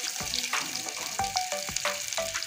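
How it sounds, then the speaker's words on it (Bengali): Rupchanda fish frying in hot oil, a steady close sizzle with repeated scraping and turning strokes from a spatula, alone with no talk. "মাছটা একটু লাল লাল করে ভেজে নেব।"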